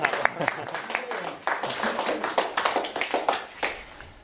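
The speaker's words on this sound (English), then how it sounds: "Lee deserves a round of applause" A small audience at a past life regression event claps in a short burst of distinct, close hand claps, uneven and lively, with a voice briefly over it.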